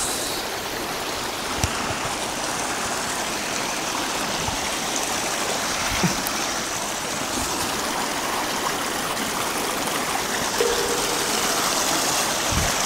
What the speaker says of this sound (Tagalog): ilog naman po ang ating tatawiran po mga kalangga